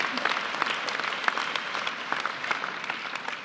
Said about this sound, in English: can we give our graduates all a big,